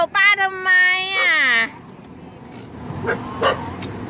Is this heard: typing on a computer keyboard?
no